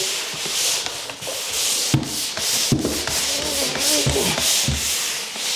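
Sandpaper rubs over screw spots on a drywall wall in steady back-and-forth strokes, close and fairly loud, with short pauses between passes and no talking.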